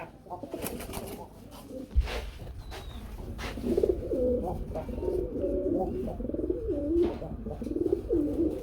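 Lahori and local pigeons cooing close by, repeated soft throaty coos and bubbling calls over low room noise, with a brief thump and faint wing flutters.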